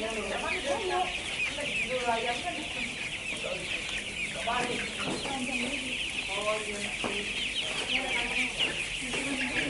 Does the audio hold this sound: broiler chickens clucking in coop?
yes